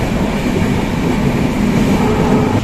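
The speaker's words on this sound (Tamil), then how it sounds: "இந்த ட்ரெயின் பார்த்தீங்கன்னா நல்லா நீட்டாகவே இருக்குது" A passenger train on the Dibrugarh–Tinsukia–Ledo line in Assam rolls along the rails with a steady, loud, continuous rumble and wheel noise throughout, and no voices.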